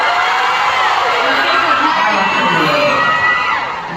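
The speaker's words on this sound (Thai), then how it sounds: "ขอเสียงปรบมือกับเธอด้วยครับ" A fan meet Q&A crowd for Ingfah and Charlotte cheers, shrieks and whoops loudly and continuously, a dense wall of excited voices with likely applause mixed in, and no pause for the full length.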